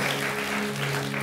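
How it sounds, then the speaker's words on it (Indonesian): Church congregation clapping during a worship service, a brief dense burst of applause with no talk over it. "Yang setuju berikan tepuk tangan buat Tuhan."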